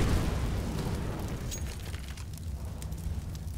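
Rumbling grenade blast in the game CS:GO, loud deep boom at the start that decays into a long low roar with scattered debris crackle.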